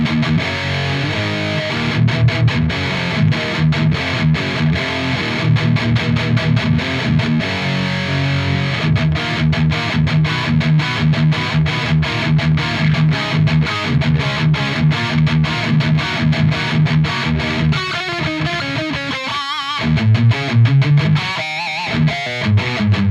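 Loud distorted electric guitar through an EL34 tube '800' amp boosted by an SD1 overdrive pedal, playing a steady chugging riff with thick gain, then choppy stabs and brief stops near the end.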